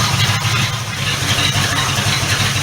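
A 1976 Ford LTD engine idles steadily while warming up, a loud, close, even low rumble with no talk over it.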